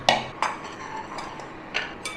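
Chicken pieces and potatoes being mixed in a pan, with a few sharp clinks of a utensil against metal spaced irregularly over a quiet background, no talking.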